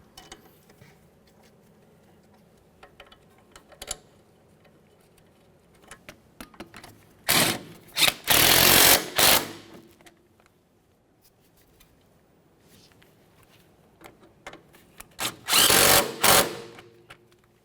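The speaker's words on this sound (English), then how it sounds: "Start in our mounting bolts and snug them up." Two bursts of a power tool snugging the flex hose mounting bolts on a 1994-1997 Honda Accord front shock, each a couple of seconds of loud whirring with brief pauses, separated by quieter clicks and handling noises.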